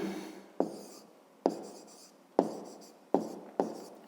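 Pen or chalk writing out a maths solution for a fifth-grade exercise, heard as five distinct scratching strokes, each a sharp onset that fades, spaced irregularly, close and fairly quiet with no talking.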